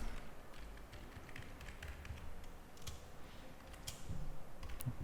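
Typing on a computer keyboard while entering an Excel formula, a quiet, close patter of irregular key taps and clicks continuing throughout without speech.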